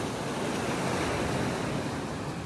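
Small ocean waves wash steadily onto a beach in North Naples, Florida, a continuous even surf with light wind noise and no talking.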